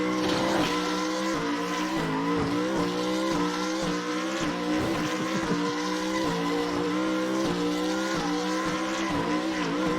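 Race car in Assetto Corsa drift practice at Long Beach held at full throttle with a stuck throttle, a loud, continuous high-revving engine wail wavering in pitch, mixed with tire squeal and skidding.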